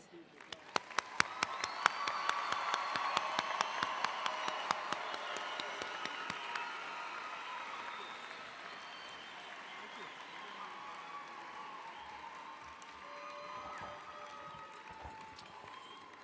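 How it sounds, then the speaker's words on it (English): A university commencement crowd bursts into applause, a dense wash of clapping with sharp individual claps early on that builds and then slowly thins into a sustained, softer patter across the hall. "Please join me in applause."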